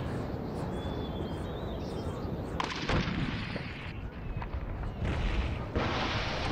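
Repeated heavy cannon booms in the game Empire: Total War, rolling blasts layered over dense rumbling battle noise, loud and continuous with no talking.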